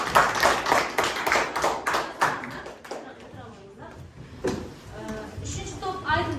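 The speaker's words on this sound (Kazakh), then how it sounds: "Дұрыс болса шапалақ әдісі" Classroom applause from Kazakh sixth-graders in a literature lesson, a burst of many hands clapping in a loud, dense patter that thins out, with scattered children's voices mixed in.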